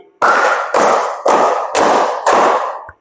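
Pupils of a sixth-grade class clap five times together in a classroom, giving a steady, evenly spaced run of loud, sharp unison claps with short reverberant tails and no speech.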